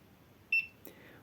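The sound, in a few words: beep from competition timing box detecting motor running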